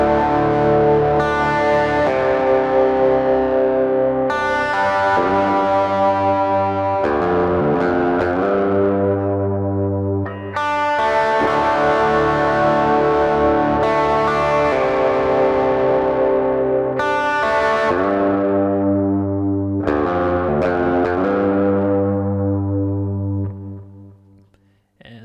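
Lead electric guitar plays the verse of a song, long sustained notes with heavy effects and echo ringing out in repeated phrases, loud and close, with no talking.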